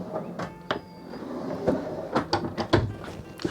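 A large double drawer in the galley of a Contest 50CS centre-cockpit sailing yacht is pulled open, giving several short sliding knocks and clunks at close range with no voices.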